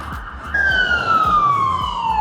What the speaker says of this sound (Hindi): ये तो कोई इमरजेंसी होती है, बहुत ही ऊंचा सायरन बजाते हैं।